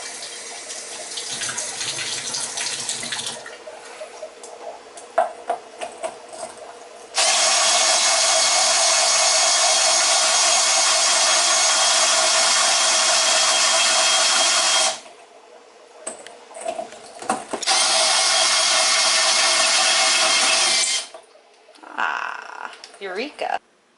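Glass fish bowl being drilled with water kept in the reservoir, a loud steady whirring with wet grinding in two long sustained bursts, separated by quieter pauses with small knocks and handling sounds.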